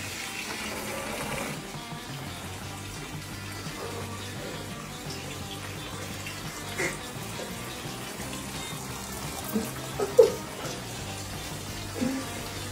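Water pours and splashes steadily inside a house as it is deliberately flooded, a continuous broadband rush with a few brief knocks and clatters near the end and no talking.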